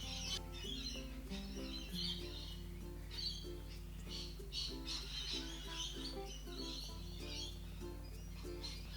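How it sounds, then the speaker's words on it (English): About forty rainbow lorikeets calling outside, faint, scattered chirps and screeches heard indoors over a low steady hum, with a few brief lulls. "There's literally like probably about 40 rainbow lorikeets outside."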